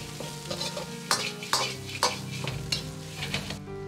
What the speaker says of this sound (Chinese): 接着下入控干油的鸡丁，这时候火可以稍微开大一点